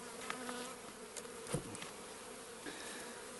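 Honeybees hum in a dense, continuous buzz around an apiary at winter's end, close and steady with a few individual bees passing louder near the microphone.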